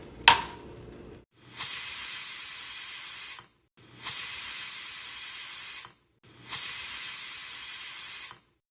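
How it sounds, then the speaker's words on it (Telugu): A pressure cooker steaming brinjal on the stove gives three long, loud hissing whistle bursts close by, each lasting about two seconds with short gaps between, after a brief clatter at the start and no talking. "విజిల్స్ వచ్చిన తర్వాత విజిల్ తీసేయండి"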